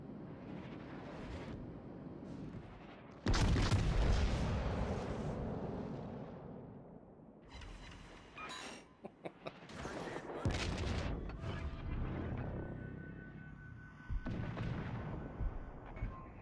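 Heavy main-battery naval gun turret salvos in a warship video game, booming loud and close with rumbling aftershocks, several blasts spread across the stretch amid constant battle noise.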